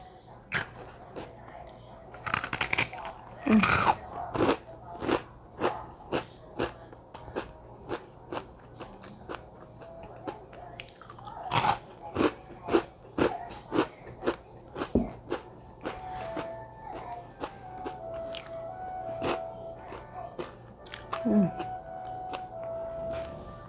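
Crunchy rengginang rice crackers being bitten and chewed up close, a steady run of sharp crackling crunches over about twenty seconds with short pauses, no talk.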